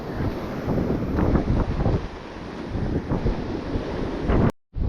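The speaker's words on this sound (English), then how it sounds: "this is a really intense wind" Strong wind buffets the microphone at a surf-fishing beach by a boardwalk, a loud, gusty rumble with faint surf beneath, cutting out abruptly near the end with no talking.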